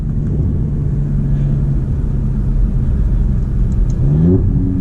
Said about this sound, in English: But it makes the exhaust so much louder, and is definitely the way you want to drive this.